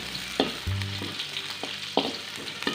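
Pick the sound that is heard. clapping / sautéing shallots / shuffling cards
sautéing shallots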